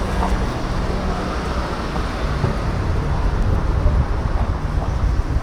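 Strong, cold seaside wind in Kuşadası, Turkey, buffets the microphone in a constant loud roar, with faint traffic or sea noise beneath it and no clear voices.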